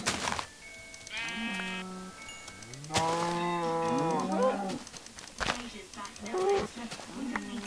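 Cows in the video game Minecraft give several drawn-out moos one after another, loud and close, with short gaps between the calls.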